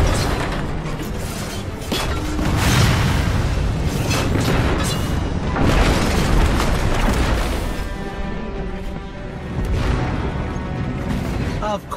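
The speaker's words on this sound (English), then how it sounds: "Of course the Red Legion have tanks too." Red Legion tanks in Destiny 2 fire heavy booming shots amid a dense, continuous battle din of explosions and crashing debris, loud throughout with repeated blasts and no voices.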